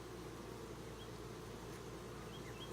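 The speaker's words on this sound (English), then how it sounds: "I kind of want to shake these bees" Bees from an open hive hum in a steady, dense drone, close and soft, with a few individual insects flitting past near the microphone.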